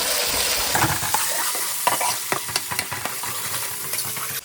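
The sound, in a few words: stirring tomato pieces frying for goat head curry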